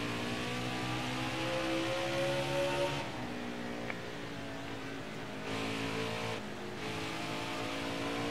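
Stock cars race around Bristol Motor Speedway in the NASCAR Heat 5 video game, a steady roaring engine drone with whining revs that shift pitch as the pack runs on, with no talk.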